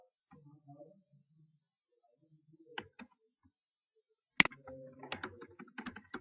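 Sparse keystrokes on a computer keyboard as a short word is typed into a form field, a few soft clicks early on, then a sharp tap followed by a quick cluster of close clicks.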